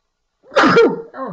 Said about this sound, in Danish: Jeg skulle lige nyse.